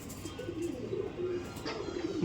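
A Madrasi pigeon resembling the Andhra breed coos softly in a loft, producing low rolling murmurs that repeat steadily through the moment, fairly faint amid background hum.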